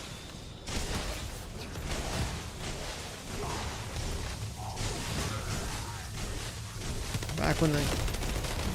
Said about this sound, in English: The sound of the Enduring Legacy reminds me so much of our speedruns